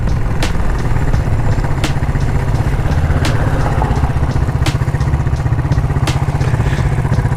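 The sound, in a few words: Cafe400 motorcycle with modified exhaust revving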